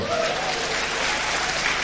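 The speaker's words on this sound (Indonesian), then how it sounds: "Beri tepuk tangan itu betul." Dense, continuous applause from a church congregation at a sermon, loud and uniform throughout with no pauses or talk over it.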